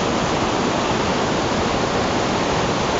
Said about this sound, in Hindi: यहाँ पर एक खूबसूरत आबशार है, आप उसको देख सकते हैं।